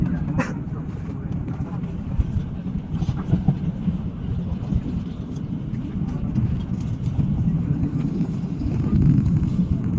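A train at a station, a steady low rumble of rolling stock that swells slightly toward the end, with faint clanks and murmured voices underneath.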